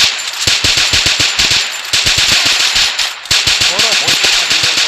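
Rapid automatic gunfire from the Free Fire video game in a battle-royale ranked match, loud bursts of shots in quick succession with brief gaps, close and dominant throughout.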